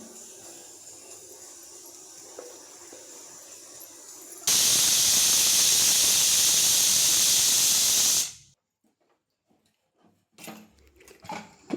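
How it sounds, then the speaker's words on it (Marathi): A pressure cooker cooking vegetables for pav bhaji lets out a loud, steady steam hiss for about four seconds, then cuts off abruptly, leaving quiet kitchen sounds. "कुकरच्या तीन सिट्या झाल्यात"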